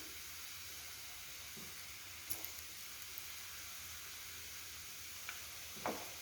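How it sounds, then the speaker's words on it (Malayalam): A quiet, steady sizzle of an evening snack frying in oil, with a few faint clinks and scrapes scattered through it. "കുട്ടികൾക്കാണെങ്കിൽ മതി ഇങ്ങനെ ഫ്രൈ ചെയ്തെടുക്കുക"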